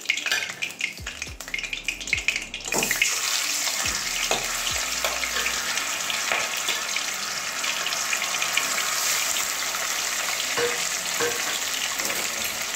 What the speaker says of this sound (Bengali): তো বাকি দুটো ওইরকমভাবেই ভেজে নেবো।